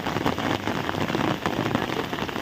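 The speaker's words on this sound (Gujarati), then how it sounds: "ધીમા ધીમા ધીમા ધીમા વરસાદ આવે" Light rain falls steadily over a village near Botad, a soft, even patter on surfaces that stays close and unbroken, with no voices.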